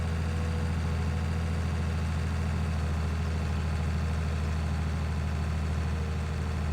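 A heavy tractor engine runs in a farming video game, a continuous low droning hum that stays steady and loud throughout with no talking.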